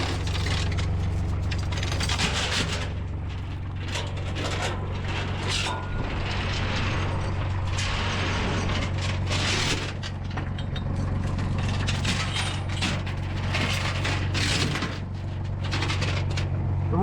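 Chain clinking and a ratchet binder clicking while securing a Giant 1200tele loader onto a trailer, irregular metallic rattles and clicks over a steady engine idle throughout.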